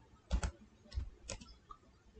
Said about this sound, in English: type device manager